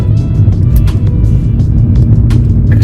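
A BMW F30 320i with a tuned four-cylinder engine producing 350 hp drives with a loud, deep exhaust drone and rumble, heard close up throughout with small fluctuations and no speech.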